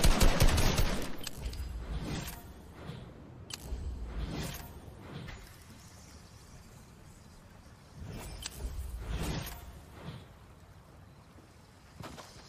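Fortnite gunfire sounds in bursts, with loud clusters of shots near the start, around two to four seconds, and again around eight to nine seconds, separated by quieter stretches of game ambience.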